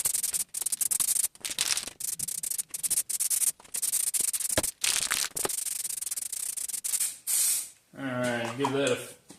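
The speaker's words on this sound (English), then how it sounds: "Anywhere that I'm going to weld, I'm going to put this weld through primer on." Weld-through primer sprays from an aerosol can onto bare car body metal during an AWD body swap on a 1968 Charger, loud close bursts of hiss broken by short pauses, then a voice speaking near the end.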